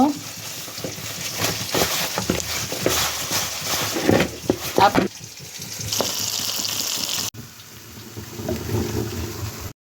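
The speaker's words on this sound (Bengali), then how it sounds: "তেল দিয়ে দিলাম তেলের মধ্যে পেঁয়াজ রসুন বাটা দিলাম" Onion and garlic paste frying in hot oil while greens are cooked for a Bengali pabda fish recipe, a steady loud sizzle with stirring scrapes, easing into a quieter hiss near the end.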